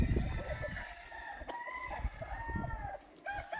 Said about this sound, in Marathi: हा बघा, प्युअर गावरान मधला कोंबडा किती ॲक्टिव्ह, बघा किती छान मस्त.